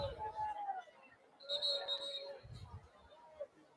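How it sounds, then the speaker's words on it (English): A referee's whistle at a high school football game between Marion and Hutch Trinity, a sharp sustained tone rising midway over crowd murmur and babble, with a fainter whistle earlier. "Got a whistle somewhere."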